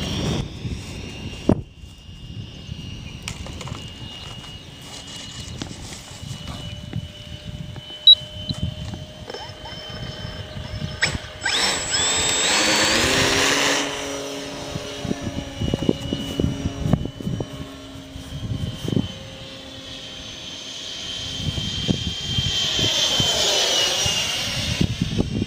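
A Freewing F/A-18E electric RC jet on a 3S battery flies over an outdoor field, with a steady broadband roar and a ducted-fan whine that swells as it passes close by, then fades and returns. People talk intermittently under the noise.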